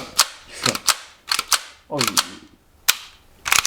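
Sharp plastic clicks and clacks close by, a few quick mechanical snaps in an irregular series as the slide of a Tokyo Marui M45A1 airsoft pistol is pulled back and released.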